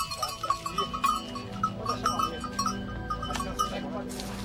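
Goats on an East African farm bleat several times in short, wavering calls at a moderate distance, layered over faint background sound.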